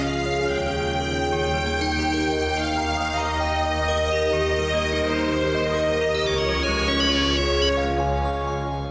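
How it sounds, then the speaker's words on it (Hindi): A phone ringtone plays continuously, a bright melodic electronic tune repeating at steady volume with no voices. "गौरी काकी को फोन करके पूछ लेती हूँ।"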